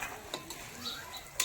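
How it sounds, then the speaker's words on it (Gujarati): Khaman being tempered in a pan in a home kitchen, a faint sizzle with a few light clicks and clinks of stirring. "જો ખમણ વઘારે છે"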